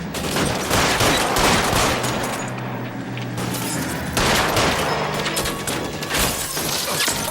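Gunfire in the L.A. Noire video game on PS4: dense, loud bursts of rapid shots with crashing impacts that pause briefly and then resume, with no talk over them.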